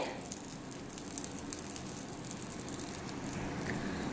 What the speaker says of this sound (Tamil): பீட்ரூட் வந்து கொஞ்சம் ரெண்டு நிமிஷத்துக்கு நல்லா வேகட்டும் எண்ணெயிலே